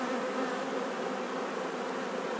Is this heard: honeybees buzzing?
yes